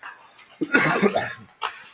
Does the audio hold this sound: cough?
yes